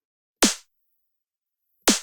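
A snare drum played through a reverb device inside the KickDrum plugin sounds two sharp, isolated hits about one and a half seconds apart, each with a short bright tail that dies away quickly.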